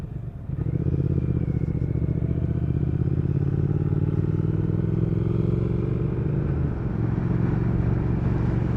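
A 2019 Triumph Speed Twin motorcycle on a test ride, its twin-cylinder engine droning loud and steady after a brief rise at the start, with a rich low-pitched rumble and wind rush throughout.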